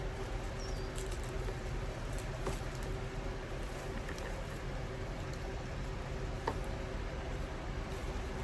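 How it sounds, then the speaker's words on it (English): Rain falls steadily outside at a cut-flower farm, a dense, even patter heard at moderate level throughout, with a few faint scattered clicks and no talking. "it is raining out."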